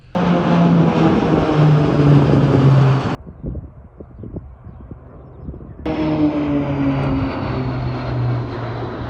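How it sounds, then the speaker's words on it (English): Three New Zealand Air Force planes passing over a gliding championship airfield, a loud steady propeller drone that briefly drops away and then returns. "We've got 3 of New Zealand Air Force planes coming through at 12 o'clock right before we launch our grid."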